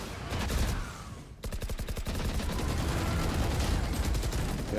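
An Elder Flame Vandal rifle fires in the Valorant video game, loud and close. A short volley comes first, then long unbroken strings of rapid, evenly spaced automatic shots.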